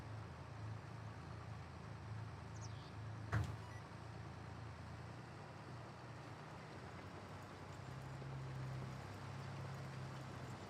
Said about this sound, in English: I'd like to hear the RPMs of this tractor higher